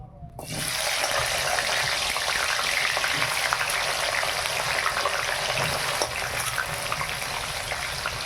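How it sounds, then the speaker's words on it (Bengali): Potatoes frying in hot oil in a kadai, a steady dense sizzle that starts abruptly after a brief quiet moment and runs close and even throughout, with no voices. "আগে আলুটা ভেজে নে।"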